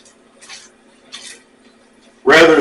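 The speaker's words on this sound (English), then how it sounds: "let me go ahead and just stir it this way" A spoon scrapes and stirs honey chipotle shrimp in a pan with two soft strokes, then a louder, fuller burst of stirring and sizzling close up.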